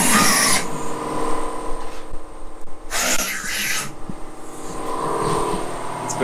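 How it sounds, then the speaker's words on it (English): A power drill drilling rivet holes in a metal angle on a school bus roof whines in loud bursts with brief pauses between them, close by and harsh, over steady background noise. "they are drilling all the holes for the rivets"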